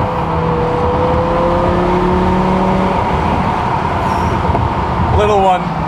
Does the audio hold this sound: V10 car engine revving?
yes